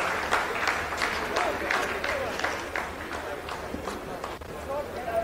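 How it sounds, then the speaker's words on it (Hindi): Dense applause from a room of ISRO scientists during the Chandrayaan-3 lunar landing phase, steady and moderately distant, with a voice talking over it throughout. "आप इस तालियों के गड़गड़ाहट को सुन सकते हैं"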